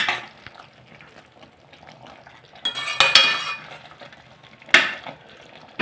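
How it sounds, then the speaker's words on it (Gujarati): A spoon stirs sev into tomato gravy in a pan, making soft, close scraping, punctuated by a few sharp metallic clinks against the pot. "એમાં આપણે માપમાં 200 ગ્રામ જેટલી સેવ ઉમેરવાની છે. પછી એને સારી રીતે મિક્સ કરી દેવાનું."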